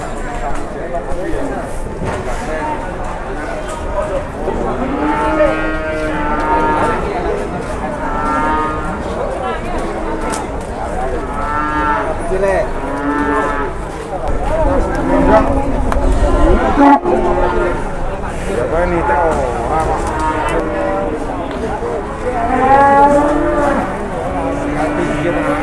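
Cattle at a livestock market moo repeatedly, several animals lowing at close and middle distance, under a steady crowd murmur and people talking throughout.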